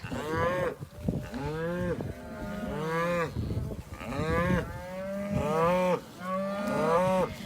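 Farm cows call for their calves with a series of long, loud moos, one after another and overlapping, close by and filling the whole stretch with no talking.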